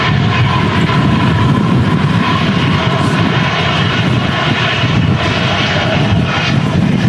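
Aircraft landing in strong crosswinds at Manchester Airport during a storm, a loud continuous roar of jet engines heard steadily from nearby throughout.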